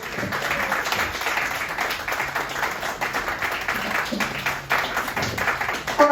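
Audience clapping at a comedy show, a steady, dense wash of applause that holds at even loudness throughout, with a brief swell near the end.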